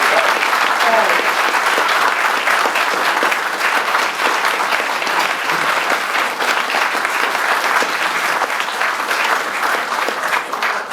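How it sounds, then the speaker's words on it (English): A large audience applauding loudly and steadily, dense continuous clapping that fills the whole stretch without pause. "let's just give him a great round of applause"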